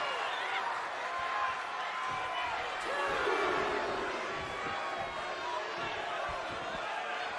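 A virtual arena crowd in the wrestling game WWE 2K23 roars and cheers continuously, a broad, steady mass of noise with commentary voices running over it.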